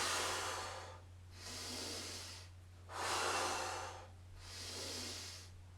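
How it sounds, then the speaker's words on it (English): Slow, deep breaths during a breathing exercise: three long airy inhales and exhales in a steady rhythm, close and soft over a constant low hum, with no talking. "Expand and breathe in."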